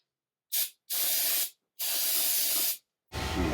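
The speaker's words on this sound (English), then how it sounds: "And just clean it off a little bit with some brake fluid." Brake fluid sprays from a can onto a military air-pressure wiper valve part in short close bursts: one quick spritz, then three longer hissing sprays separated by brief pauses.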